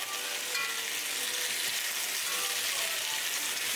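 Onions frying in a pan for jollof rice, giving a dense, even sizzle that crackles steadily up close for the whole stretch with no talking.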